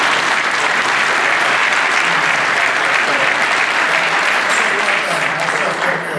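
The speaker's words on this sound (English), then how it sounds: "Can we give the mayor a round of applause?" Loud, sustained applause from a luncheon audience honoring the mayor at a coaches luncheon for a college football classic, steady dense clapping filling the whole stretch without a break.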